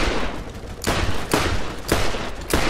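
Gunfire in the video game Borderlands: loud, close bursts of rapid shots, with three or four sharp blasts rising out of continuous firing over a few seconds.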